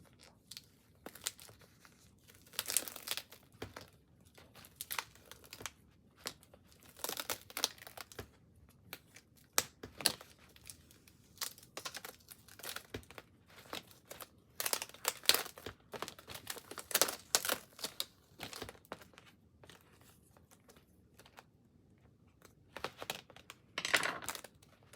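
A Cricut vinyl transfer sheet peeled off a shirt, giving soft, close crinkles and irregular small crackling tears spread throughout, quiet and with no talking.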